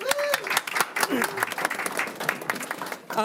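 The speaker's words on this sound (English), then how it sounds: "So first of all, thank you, all of you. Round of applause." A small gathering at a press conference with Uber and Lyft drivers and legislators claps briefly, individual claps distinct and uneven rather than a dense roar, with a voice speaking over the start.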